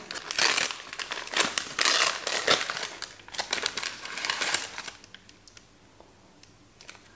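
A small gift package is unwrapped up close, with bursts of crinkling and crumpling paper and plastic that thin out into scattered faint rustles and clicks toward the end, and no talking.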